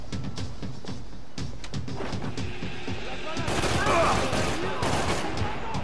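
Rapid gunfire from the video game Max Payne 3 crackles in dense bursts, building into a heavier volley midway, with someone talking over the shooting.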